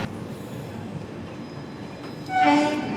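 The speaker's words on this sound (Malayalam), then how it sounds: "നമുക്ക് 16337 ഓഖ എറണാകുളം എക്സ്പ്രസ് യാത്ര ചെയ്തുകൊണ്ടിരിക്കുകയാണ്." The 16337 Okha - Ernakulam Express runs on the Konkan Railway with a steady rumble of wheels on track and a short squeal or horn-like tone rising near the end.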